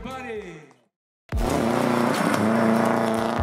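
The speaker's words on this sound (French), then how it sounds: "Tous ont hâte d'entendre les moteurs vrombir et voir s'élancer les bolides sur le circuit gaspésien." Rally car engines roaring at the Rallye Baie-des-Chaleurs on a Gaspé circuit, a loud, sustained, dense revving that bursts in after a brief silence, following a short stretch of speech.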